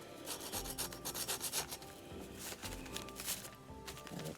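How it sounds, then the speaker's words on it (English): Sandpaper rubs steadily over the edges of a painted farmhouse-style decorative mason jar in quick, close back-and-forth scratchy strokes, with no talking. "That's mostly where I'm gonna be sanding because I want that to show up real good."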